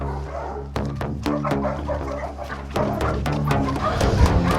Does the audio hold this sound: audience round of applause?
no